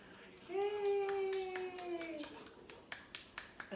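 A few light hand claps follow a drawn-out voice in a quiet indoor space. The claps are faint, sharp taps that come unevenly near the end.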